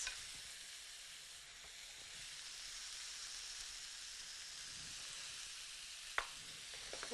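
Cabbage and celery stir-frying in a hot pan, a steady faint sizzle with an occasional light scrape of stirring near the end.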